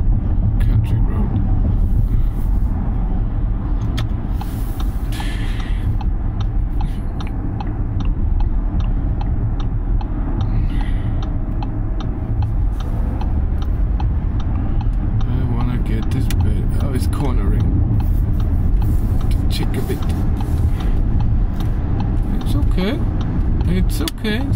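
An Audi e-tron electric car driving on a country road, heard from inside the cabin: a steady low road and tyre rumble with faint clicks and rattles, while someone talks over it throughout.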